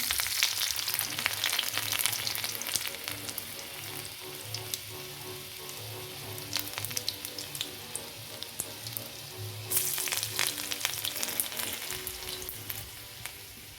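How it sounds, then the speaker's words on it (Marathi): Garlic frying in hot oil in a kadhai for a tempering, a steady, fairly soft sizzle with scattered crackles and occasional stirring, heard alone without speech. "त्याच्यानंतर आपण फोडणीला लसूण घालणार आहे"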